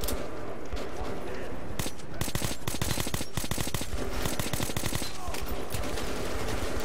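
Assault rifle fire in the Metro 2033 video game: dense, loud bursts of rapid automatic shots that fire almost without pause, one volley crowding into the next.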